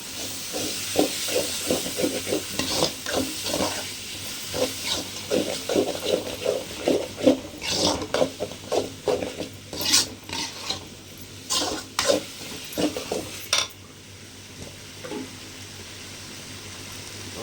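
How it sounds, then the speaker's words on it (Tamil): Medium tomatoes sautéing and stirred in a pan for quail pepper gravy, with a steady sizzle and hiss broken by repeated scraping stir strokes, close and fairly loud, then easing toward the end. "நாலு தக்காளி மீடியம் சைஸ் தக்காளி நாலு போட்டு நல்லா வணக்கலாம்"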